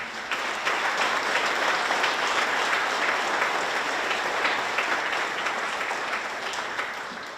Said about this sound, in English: please join me in another round of applause for the parents and guardians of these incredible students